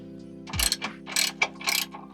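A ratchet wrench works on the 17mm and 19mm bolts of the rear engine mount on a 2025 Honda Civic Si, giving quick close bursts of rapid clicking separated by short pauses.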